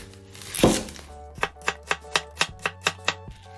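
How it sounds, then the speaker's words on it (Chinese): A knife chops half an onion on a cutting board in a kitchen, giving about nine crisp, evenly spaced strikes close by after a brief rustle of handling, with no talking. "最后再切上半颗洋葱"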